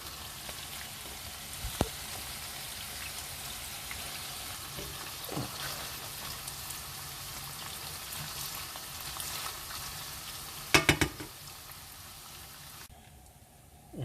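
Food sizzles steadily in a hot pan during glazing and deglazing with ketchup and thyme, a soft continuous crackle broken by a few sharper clinks near the end.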